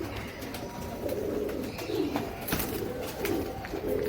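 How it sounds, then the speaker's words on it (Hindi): Teddy pigeons coo softly and repeatedly nearby, low throaty calls rising and falling, with light rustling and wing flutters in between. "और ये बुजुर्ग कबूतर है सारे।"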